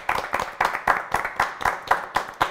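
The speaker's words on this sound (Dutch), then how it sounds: "Applaus voor de regisseur." Audience applause for the director of a Dutch musical comedy show, a rhythmic series of sharp, evenly spaced hand claps, close and distinct, about three per second.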